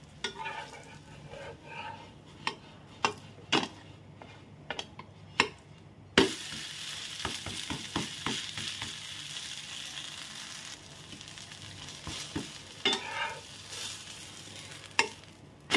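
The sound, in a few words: tomato omelette frying in oil in a pan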